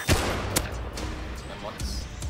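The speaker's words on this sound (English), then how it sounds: "Oh, shooting going on right next to me." Nearby gunfire in the video game Rust, a battle royale match: a couple of sharp, loud shots burst out within about two seconds over dense background game noise.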